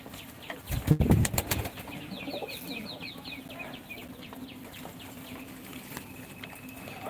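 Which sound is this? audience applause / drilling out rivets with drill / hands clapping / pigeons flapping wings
pigeons flapping wings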